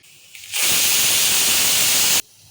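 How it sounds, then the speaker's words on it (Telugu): A pressure cooker whistle: a single loud, steady hiss of steam bursts out for under two seconds and then cuts off abruptly, leaving quiet background. "ఈ ఒక విజిల్ వచ్చింది కదా"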